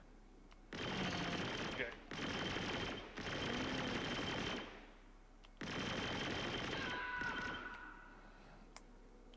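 Ship guns fire in a video game in long, loud sustained bursts of rapid shots, three back to back, then a pause and one more long volley, with a single word spoken briefly near the start.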